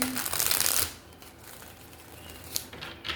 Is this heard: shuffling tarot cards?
yes